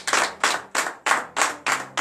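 Steady rhythmic clapping from a church congregation during morning prayer, about three claps per second, each sharp and full, with no talking.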